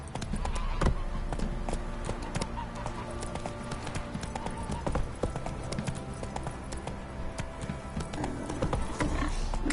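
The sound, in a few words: horse galloping in a video game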